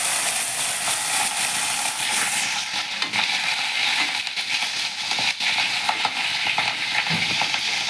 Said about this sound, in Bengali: কালো জিরে ফোড়ন দিলাম। এবার দেব কাঁচা লঙ্কা।